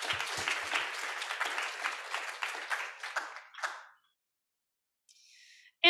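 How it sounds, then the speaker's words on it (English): A round of applause for the judges at a capstone competition showcase, a brisk clatter of clapping that fades and stops after about four seconds, leaving near silence with a faint trailing noise. "Let's give a quick round of applause for our judges"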